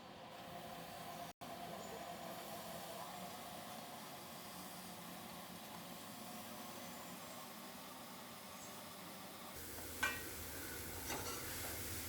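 Finely chopped fenugreek leaves stir and sizzle in a pan, a faint, steady frying hiss that continues throughout, with a brief louder scrape toward the end.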